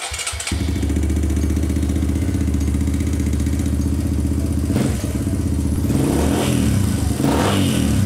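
A Suzuki DR200 motorcycle fitted with a Nibbi racing carburetor starts up and runs, with a loud, steady engine drone close by and a few rising revs toward the end, with no talk.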